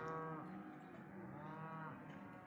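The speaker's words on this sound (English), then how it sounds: "Lots of cattle." Several cattle moo in long, overlapping bellowing calls on ranch land near Conconully State Park in Washington, loud and close, with one lowing voice fading into the next and no talk.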